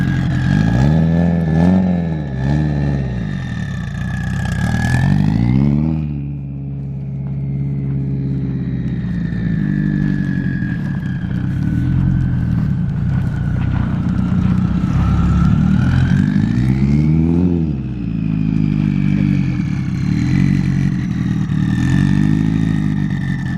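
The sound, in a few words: car engine revving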